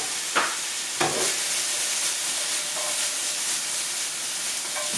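Vegetable broth with meat comes back to a boil in a pot, giving a steady, fairly loud hiss and bubbling with a few soft knocks, close by and with no speech.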